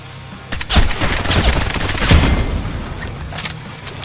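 AK rifle fire in the online shooter Contract Wars: loud, rapid automatic bursts rattling nearly nonstop, with booming reports layered over one another and no speech.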